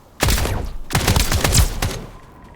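Rapid bursts of gunfire in the Escape from Duckov video game, two dense volleys of loud, close shots separated by a brief pause, fading at the end, with no talking.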